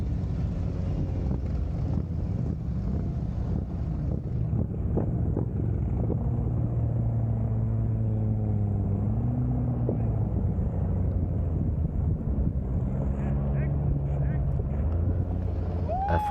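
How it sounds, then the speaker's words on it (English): Honda Goldwing motorcycle engine is throttled, a steady low rumble with wavering pitch swells, under heavy wind buffeting from the microphone and no clear talk. "I'm going to shut up here just so you guys can hear the throttle of this motorcycle."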